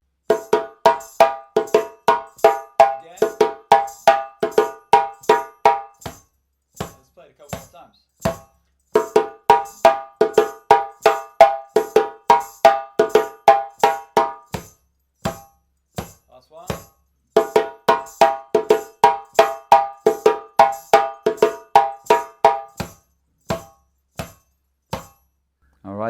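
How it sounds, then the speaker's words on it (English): Solo djembe playing the Kalayla rhythm: crisp hand strokes mixing tones and sharp slaps in a steady repeating pattern, three phrases separated by short pauses, close and clear with no talking. "So tone, tone, slap, slap, tone, tone"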